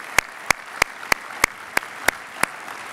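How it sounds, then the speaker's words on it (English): Sharp single claps, evenly spaced about three per second, ring out at the close of a national security summit. They sound sparse, as if from only a few hands. "Please join me in another round of applause for David Ignatius and our IC leadership."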